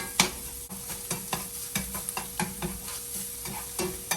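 Sausage broken into small crumbles browning in a frying pan for biscuit gravy, with a steady sizzle and repeated scraping, stirring strokes of a utensil against the pan, close and fairly quiet.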